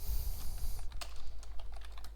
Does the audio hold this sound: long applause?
no